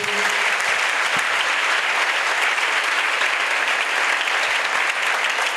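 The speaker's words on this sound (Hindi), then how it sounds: "तालियां बजाएंगे हम इनके लिए।" Applause from a congregation during a church sermon: steady, dense clapping that fills the whole stretch at full strength without talk.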